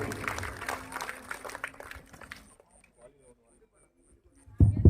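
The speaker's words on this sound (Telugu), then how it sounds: "అందరూ కూడా చప్పట్లు కొట్టి స్వాగతం పలుకుదాం" A congregation at a Holy Mass applauding to welcome a priest, a dense burst of clapping for about two and a half seconds that fades out, followed by near silence and then a loud voice.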